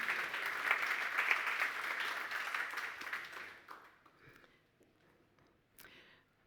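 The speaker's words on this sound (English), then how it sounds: "Applause for yourself, please." Audience at the Neos Conference 2025 applauds itself, a dense burst of clapping that holds for about three seconds, then dwindles to a few scattered claps and quiet room noise.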